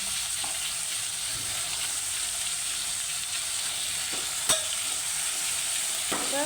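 Val papdi beans sauté in hot oil in a pan, a steady close sizzle and hiss running throughout, with a few brief clinks and stirring scrapes near the end.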